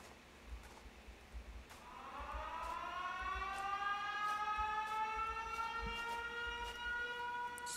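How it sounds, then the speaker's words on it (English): A loud, droning siren wail from the Sirenhead creature in the indie horror game SouthPoint swells up and holds, rising in pitch and sustaining over low background rumble. "Don't do the siren thing again, bro."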